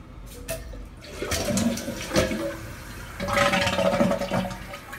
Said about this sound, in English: tighten it up and then flush it and test it to see if it leaks